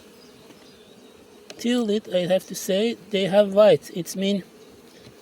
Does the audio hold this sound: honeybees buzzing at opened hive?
yes